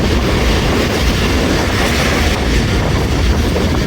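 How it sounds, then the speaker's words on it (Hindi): A passenger train, the Rehman Baba Express, runs through Kalyan Awan station on the Rawalpindi to Faisalabad line, giving a loud continuous rumble with rhythmic wheel clatter heard close from on board, unbroken throughout. "तो जनाब कल्याण आवान से पास थ्रू हो रही है ट्रेन हमारी।"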